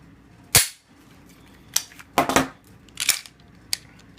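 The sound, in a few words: Springfield XDS pistol firing rest of magazine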